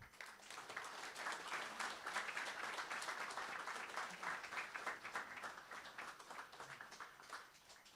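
At a ribbon cutting ceremony for a care home, an audience applauds guests with steady, dense clapping that holds for several seconds, sounding somewhat distant and soft.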